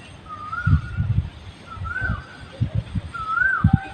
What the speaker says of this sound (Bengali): পাখি ডাকছে, কি ভালো লাগছে না শুনতে।